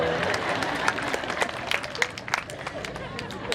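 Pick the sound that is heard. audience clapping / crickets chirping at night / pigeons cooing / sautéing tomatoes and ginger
audience clapping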